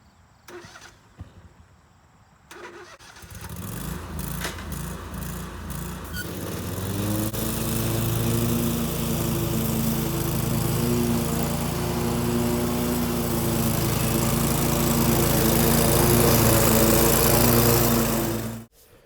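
A Scag V-Ride II stand-on lawn mower starts with a few clicks, then its engine and blades roar steadily and loudly close by as it mows tall, wet grass, running without pause before cutting off abruptly.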